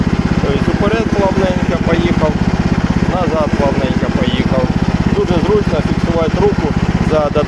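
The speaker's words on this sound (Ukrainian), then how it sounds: "Старт. Все, працює, Підсос закрив, у нас вже все працює." The engine of a tracked digging machine runs loudly and steadily right after starting, a rapid even chugging close by, while someone talks over it.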